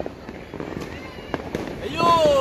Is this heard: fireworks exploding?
yes